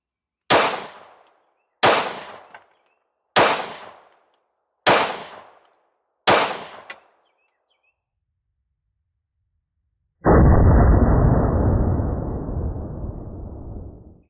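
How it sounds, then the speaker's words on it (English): A handgun fires five 9mm rounds at a shooting range, sharp loud evenly spaced reports about a second and a half apart, followed after a pause by a sustained broadband rush of noise. "going to shoot 5 rounds for groups, and then we'll check those groups once we get the 9mm here"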